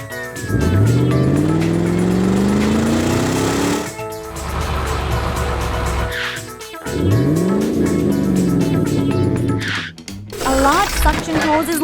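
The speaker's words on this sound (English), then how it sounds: "A car approaches and skids on the oil." A cartoon car skids on spilled oil on a cliffside road, a loud engine whine sweeping up and down with screeching tire squeals and a sudden cutoff near the end.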